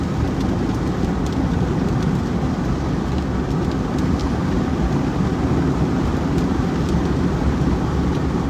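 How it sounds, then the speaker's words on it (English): Steady, dense patter of rain on a car roof during severe weather in Greenwood, Arkansas, a broad continuous hiss with a low rumble beneath, even and unbroken throughout. "Getting a little rain in Greenwood now."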